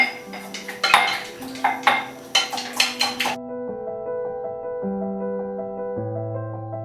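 A small spoon clinks against a bowl as spices, soy sauce and black pepper are stirred into four eggs, a quick run of sharp close taps, then the clatter stops and steady music tones carry on alone.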